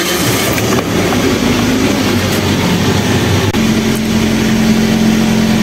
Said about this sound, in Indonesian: Ini sudah 1 menit, kita coba starter.